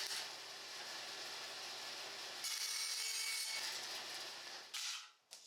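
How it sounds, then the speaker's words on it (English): A bandsaw cuts steadily through fiberglass-and-epoxy bow limbs, trimming them to rough length in a continuous rasping drone that brightens midway, then breaks off near the end as the cut finishes. "The limbs are trimmed to rough length at the bandsaw."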